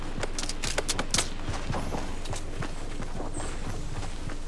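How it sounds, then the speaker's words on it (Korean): A quick cluster of sharp gunshot cracks from the left in a Fortnite battle royale match comes early on, then gives way to lighter scattered clicks and shuffling game sounds. "왼쪽에 총소리."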